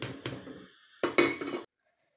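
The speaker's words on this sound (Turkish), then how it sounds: "ocaktan tenceremi aldım" Metal clanks and scrapes as a pot of homemade cheese is lifted off the stove, two sharp knocks followed by a short rattling clatter, close and fairly quiet.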